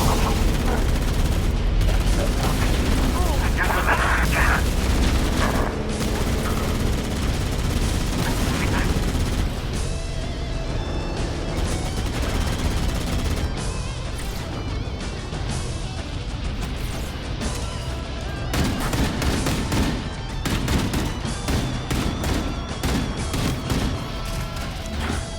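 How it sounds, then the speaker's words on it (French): Continuous gunfire and explosions fill a Halo: Combat Evolved battle as troops open fire on an enemy troop carrier, with bursts and booms layered densely throughout and voices calling out over the din. "On tire dessus."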